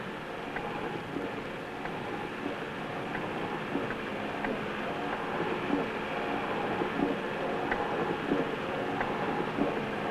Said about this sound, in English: the only thing to do is to patiently wait for the train to pass